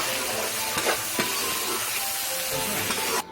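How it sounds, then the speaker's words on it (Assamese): Meat sizzles and fries in a pan with browned onions, with a few scraping stirs cutting through the steady hiss before it stops abruptly near the end. "এতিয়া আমি মাংস দিম এতিয়া মাংস দিয়াৰ পিছত ভালদৰে লৰাই দিব"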